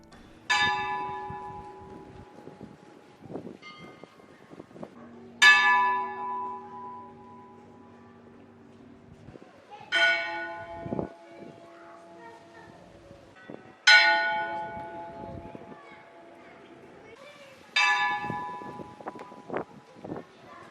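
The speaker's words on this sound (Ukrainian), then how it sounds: "Страсна п'ятниця або грецькою мигалі параскевій на Криті і в усій Греції починається з церковних дзвонів." Church bells ring out on Good Friday in Crete, Greece, with five separate heavy strikes spaced roughly four seconds apart, each ringing clearly and then decaying slowly into a quiet background.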